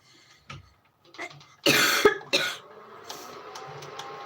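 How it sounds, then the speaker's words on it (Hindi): Several harsh coughs from an unwell person burst out close by, irregular and loud, followed by a lingering raspy breath and faint background noise. "खांसी बहुत आ रही है"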